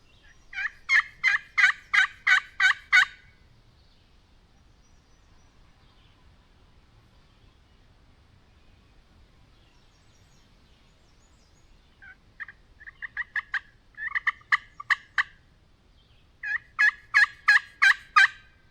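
A wild turkey gobbler in Pennsylvania spring woods calls in three bouts of rapid, rattling gobbles. The calls are fairly loud, with quiet stretches between them.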